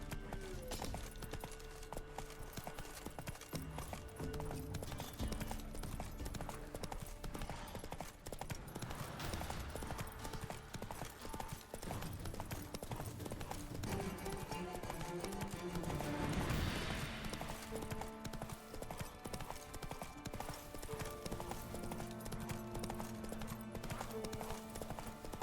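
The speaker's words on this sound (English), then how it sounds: "Come on, Roach." Horse hooves gallop in a steady, continuous clip-clop rhythm through a Witcher 3 video game scene, loud and close over a dense game soundscape with a brief voice.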